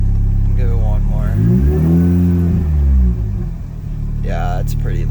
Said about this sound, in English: I don't want to rev it too much more to piss the neighbors off, but I'll give it one more.